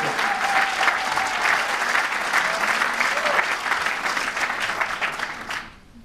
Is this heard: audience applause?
yes